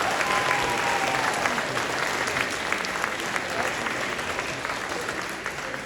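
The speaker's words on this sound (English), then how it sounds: "Let's give them a big round of applause for their dedication" Sustained audience applause at a robotics championship award ceremony, dense steady clapping from a large crowd filling the whole stretch without a break.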